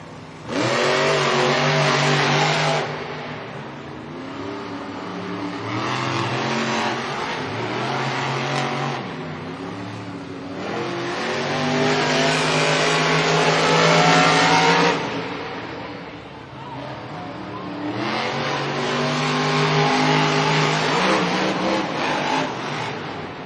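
Monster trucks roar and rev hard as they race in a stadium, with loud engine surges rising and falling in several long waves and no talk over them.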